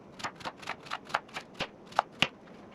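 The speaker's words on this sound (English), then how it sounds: "We're gonna cut the sweet potatoes into tiny little cubes and then season it." A knife chops sweet potatoes into small cubes on a board, about ten crisp, evenly spaced taps in a quick steady rhythm, close and fairly quiet.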